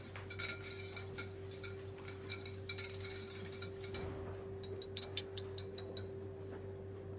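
A whisk clinks and taps against a bowl while water is mixed into a batter, a steady run of light metallic ticks that grows sharper and brighter toward the end, over a constant low electrical hum.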